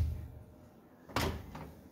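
A big drawer on a garage toolbox slides open in a short rumbling scrape followed by a second quieter rattle, heard close up in an otherwise quiet room.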